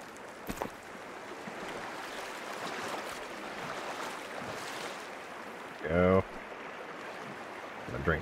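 Water collected from a stream in the video game Sons of the Forest: steady rushing water throughout, with a brief louder splashing burst near the end.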